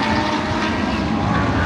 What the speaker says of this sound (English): Here comes some of the cars though.